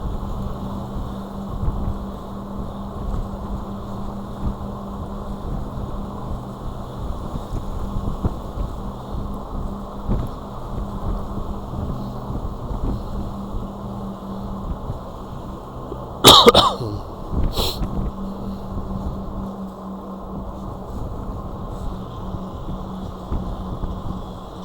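Strong crosswind buffeting a microphone while riding a Wired Freedom Super Bike, a continuous rushing roar with a couple of sharp gust bursts midway.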